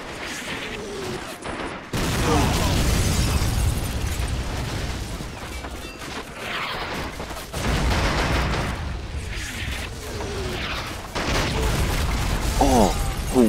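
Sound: artillery explosions in a war video game

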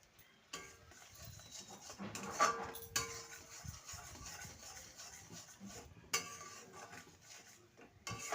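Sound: stirring spices with Kashmiri chili powder in a pan

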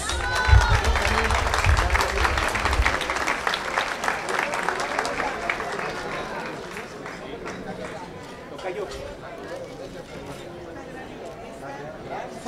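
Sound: audience applause for Mrs. Aurorita

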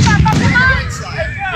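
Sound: fireworks exploding

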